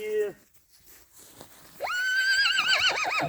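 A pregnant mare gives a brief call, then after a pause lets out a loud, quavering whinny that rises and warbles.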